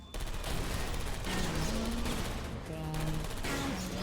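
Rapid automatic fire from turrets in the video game Portal Stories: Mel, a steady close rattle of shots running throughout, under a synthetic voice with tonal electronic cues.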